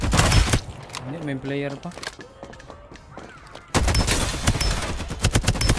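AK gunfire in the game Farlight 84 starts loud and close, drops out as a voice speaks, then resumes as a dense, sustained burst.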